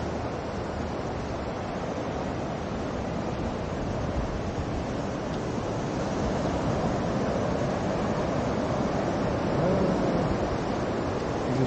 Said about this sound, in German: Ich glaube, die Wellen kommen bis hier.